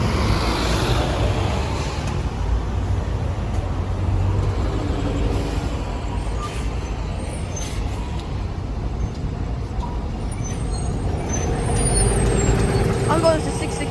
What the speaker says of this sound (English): Oh my god, so many buses.